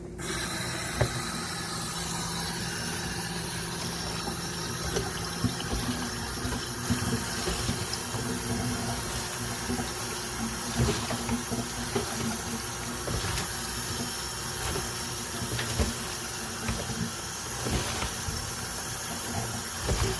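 Cold water runs from a tap in a steady, close hiss and splash for the whole stretch, with a faint mechanical hum beneath it.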